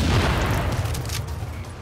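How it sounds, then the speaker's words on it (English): A deployed turret firing at enemies in The Division video game: dense, rumbling bursts of gunfire and booms that run continuously, loud and close, with no voices over them. "Oh, that turret is just owning him right now."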